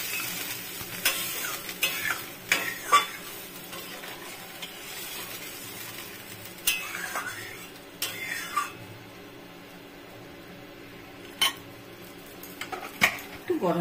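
Lentil vada curry gently simmering and sizzling in a pan after liquid has been added, with scattered spoon and pan clinks over a faint steady bubbling and no talking.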